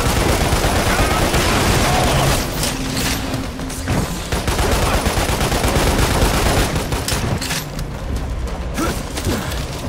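Dense, loud gunfire rattles continuously in the video game Lost Planet Extreme Condition, with rapid bursts and booms layered over a constant roar of combat.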